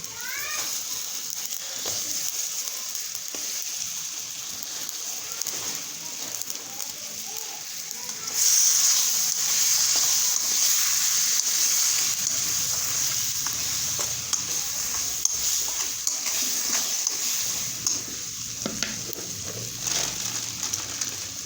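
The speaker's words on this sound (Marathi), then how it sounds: "आता आपण हे वांगे टाकून घेऊ" Eggplant dropped into green chili masala and fried while being stirred, a soft sizzle that jumps to a louder, steady hiss partway through, with faint scraping and a voice speaking underneath.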